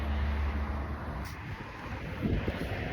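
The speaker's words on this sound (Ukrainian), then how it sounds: "Вітер ще сифонить і дуже досить холодний вітер" Steady cold wind rushes and buffets the microphone outdoors in a continuous low roar, with no talking.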